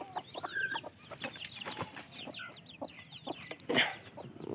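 Chickens cluck in a rural yard, several birds sounding in repeated short calls at moderate distance, with one louder squawk near the end and no speech.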